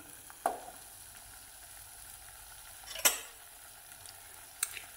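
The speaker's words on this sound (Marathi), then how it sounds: "मटण मसाला 1 चमचा, तेल सुटेपर्यंत असं हलवत राहायचं" Mutton masala frying in oil as a spoon stirs, three distinct scraping strokes against the pot over a faint, low sizzle, quiet and close.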